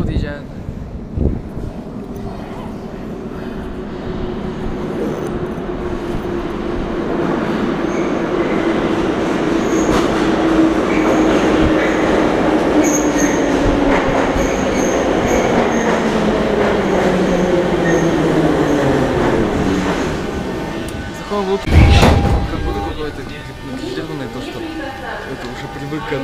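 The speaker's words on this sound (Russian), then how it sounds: "Вот поезд подъезжает." A metro train pulls into a station, its rumble swelling over many seconds with a descending wheel whine as it slows, then a sharp clatter and hiss as it stops; a voice talks over it.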